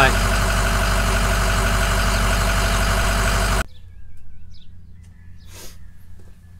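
A truck engine idles steadily with a loud, continuous low rumble for the first few seconds, then cuts off abruptly into a quieter background.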